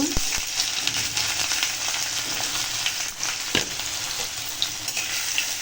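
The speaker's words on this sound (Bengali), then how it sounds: "পেঁয়াজটা একটু লাল লাল করে ভেজে নেব" Chopped onions with two small bay leaves frying in plenty of oil in a kadai, a steady close sizzle with scattered stirring clatter and a few sharp knocks, no talking.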